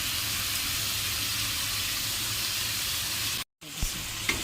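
Cumin paste and chili paste sizzle loudly in a pan for a Bengali duck curry with potatoes, a dense steady frying hiss that cuts out briefly before a few stirring clinks.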